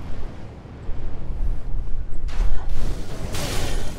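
Enemy fire flame attacks in Dark Souls III: a steady roaring, crackling whoosh of flames that swells in bursts near the end, loud and continuous with no talk.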